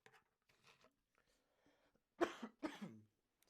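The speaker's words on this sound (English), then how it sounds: "that COVID cough" A person coughs twice in quick succession, close and fairly loud, after a few quiet breathy sounds in an otherwise silent room.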